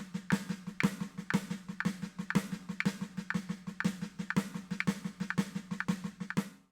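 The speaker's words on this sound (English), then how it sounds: "the drum is synchronous with the metronome click, but then it drifts apart because the drummer plays slower" Steady drum hits play against a metronome click, starting together and then gradually drifting apart as the drum slips behind the beat.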